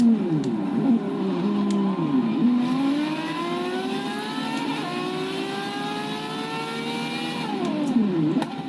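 A Ferrari 599XX races a long Hot Wheels track in Forza Horizon 3, its engine note loud and close, climbing in pitch through the gears, dropping briefly at each shift, then climbing again.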